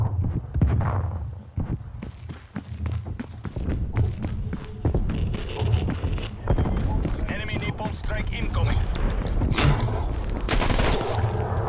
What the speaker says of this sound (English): His footsteps are way too loud.